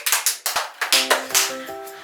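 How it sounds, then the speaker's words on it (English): Hands clap while decorating a whale shark cake, a run of sharp, crisp claps in an uneven rhythm, close and distinct, followed by a short tonal sound near the end. "we're gonna clap 2 times"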